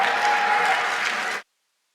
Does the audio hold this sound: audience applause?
yes